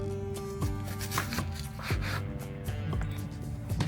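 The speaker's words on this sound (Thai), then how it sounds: "ก็ให้ซอยมันเล็กๆนะครับ" A knife finely chops onion rapidly on a board, quick close taps in an uneven rhythm with faint background hum.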